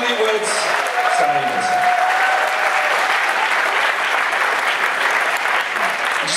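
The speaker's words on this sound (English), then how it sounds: "please once again a big round of applause for the newlyweds." Steady applause from a wedding reception crowd, continuous clapping at even loudness throughout with a faint murmur beneath.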